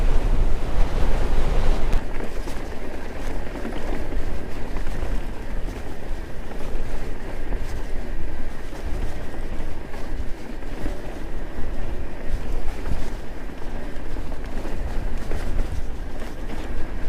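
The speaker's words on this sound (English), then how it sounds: "it's well blowy up here" Strong wind buffets a hilltop while mountain biking near Ladybower, a continuous loud roar and rumble against the microphone with no pause, gusting steadily throughout.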